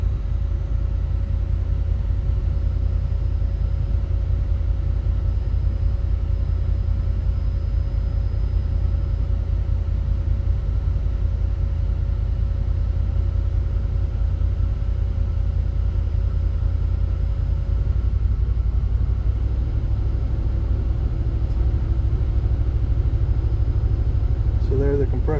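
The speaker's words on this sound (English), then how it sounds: "I'm not going to talk so you can hear what the motor and the fan does when we turn it on." A 2020 Can-Am Defender Limited Max side-by-side idles with a steady, low engine rumble. The cab fan hums on its low setting, and a faint tonal whine shifts near the end. The sound is close and constant, with no talking.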